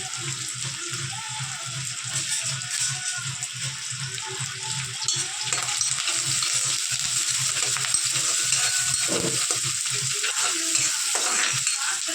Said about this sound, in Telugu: తాలింపు గింజలు, ఆవాలు, కరివేపాకు, ఎర్రగడ్డలు, తెల్లగడ్డలు వేసి వేగనివ్వాలి.